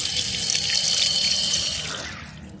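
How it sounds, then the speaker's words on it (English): Natural spring water pours from a rural tap into a water bottle, a steady close rush of running water that thins and fades near the end. "I love a rural place where you can top your water bottle up with natural spring water."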